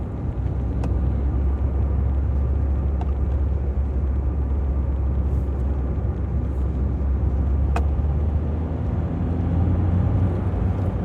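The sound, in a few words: Suzuki Swift engine driving in second gear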